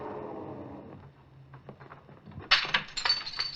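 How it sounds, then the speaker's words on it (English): A small glass window is broken with a gun butt inside an elevator as a sound effect: scattered knocks, then a bright crash of shattering glass with tinkling shards falling after it. "Then I heard that shattering of glass."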